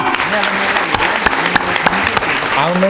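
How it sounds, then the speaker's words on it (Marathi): Loud, dense clapping from an audience at a jewellers' prize-giving event in Pandharpur, steady throughout with sharp individual claps standing out, while someone talks over it. "बापरे जोरात टाळ्या."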